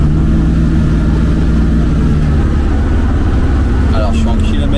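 Pontiac Firebird with a 6.6-litre engine growling from inside the cabin, a loud low rumble continuing steadily while someone talks over it.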